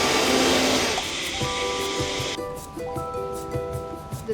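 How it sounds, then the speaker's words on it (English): A blender purees salt, olive oil and vinegar into a marinade paste for grilled mackerel. A loud, steady motor roar shifts partway through into a higher whining hum, with no voices. "So I blend all of that together to make a paste for the marination."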